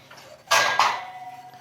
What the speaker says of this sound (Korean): 제가 쌀을 담아 놨으니까 요거를 다시 비우겠습니다